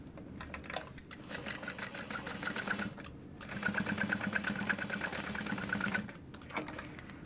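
A sewing machine stitches through layers of a fabric wristlet at the card slots, a rapid close mechanical whir in two bursts separated by a brief pause, fairly quiet.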